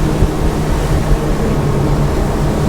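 A Kawasaki SX320GTO personal watercraft in a hard turn gives a loud, steady engine roar with rushing wind and water noise, holding at full power throughout with no voices.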